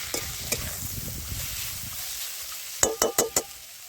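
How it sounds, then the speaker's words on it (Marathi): Chopped tomato for masala rice sautés in a pan over a village wood-fired stove, with soft sizzling and stirring scrapes, then a few sharp clinks of a spoon against the vessel near the end. "आता त्याच्यामध्ये हा चिरून घेतलेला सगळा टोमॅटो घातला, तोही व्यवस्थितरित्या परतून घ्यायचा आहे"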